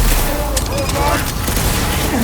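Explosions and gunfire in the Marvel's Guardians of the Galaxy video game, a loud dense rumble of blasts and shots with voices talking over the action.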